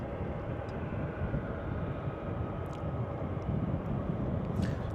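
A Buzz Air airliner at London Luton Airport gives off a steady, broad jet roar that holds even throughout and swells slightly near the end, with faint higher whines drifting above it.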